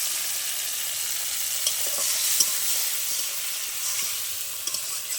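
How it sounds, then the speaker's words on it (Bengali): Cumin and coriander paste frying in a pan, a steady soft sizzle with faint scraping and stirring taps throughout, no voices. "মশলাটা ভালো করে কষিয়ে নেব।"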